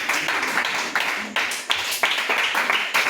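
Church congregation clapping in acclamation of the Lord during prayer, a dense run of overlapping handclaps with rhythmic surges, fairly close, with voices mixed in.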